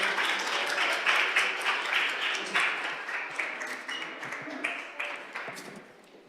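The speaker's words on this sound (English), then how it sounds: "let's give them one more round of applause as they exit" A city council chamber audience gives a dense round of applause that starts full and gradually thins out and fades over several seconds.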